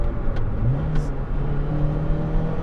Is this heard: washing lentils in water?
no